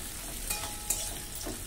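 Onions browning in a frying pan make a constant low sizzle, broken by a couple of faint scrapes as they are stirred, with no voices.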